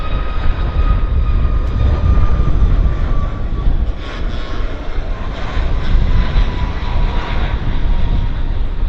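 Lufthansa Boeing 747-400 engines roar loud and close at Vancouver Airport, a sustained heavy rumble layered with high whining tones that holds throughout.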